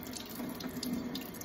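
Tap water runs steadily into a sink while a snow globe is rinsed with a soft cloth, making a soft, continuous splashing that is close and fairly quiet.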